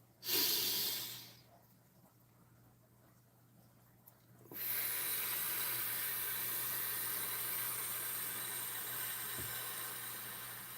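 A slow, controlled deep breath: a short sharp inhale, a quiet pause, then a long steady breathy exhale that holds for several seconds and gently fades, close and clear with no talking.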